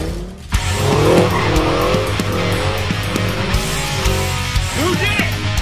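A Toyota Supra skids with drawn-out tire squeal over a steady car engine roar, loud and sustained, with shouting voices and chatter mixed in throughout.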